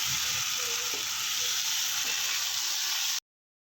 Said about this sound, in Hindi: मिक्स करेंगे अब हम इसको।